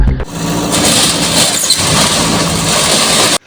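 A JCB excavator on a Forest Department job runs close by, its engine giving a loud, steady mechanical rumble that cuts off abruptly at the end.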